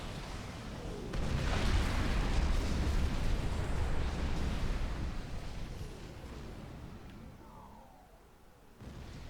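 A bomb detonates in the real-time strategy game Supreme Commander: Forged Alliance, a loud, sustained rumbling blast that fills the first half and slowly fades into a lower, rolling tail, with a smaller thump near the end.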